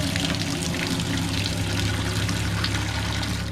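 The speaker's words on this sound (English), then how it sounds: "So I'm going to turn this faucet on." Steady, fairly loud rush of water pouring from a faucet in a winterized water system just after the pump is switched off, running continuously over a low hum with no speech.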